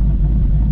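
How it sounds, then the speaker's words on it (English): Ford Mustang Boss 302 V8 idling with the red key, a steady low, near rumble with a faint uneven lope throughout the short burst. "with a Boss 302 with a red key, you do have what is a faint little lope"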